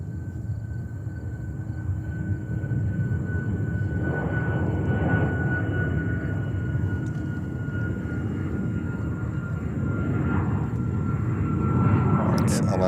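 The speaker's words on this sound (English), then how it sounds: "It's Alaska Airlines flying to the west coast on their 737." An Alaska Airlines Boeing 737 jet at JFK Airport in New York gives a steady, fairly loud engine roar that holds evenly for the whole stretch without fading.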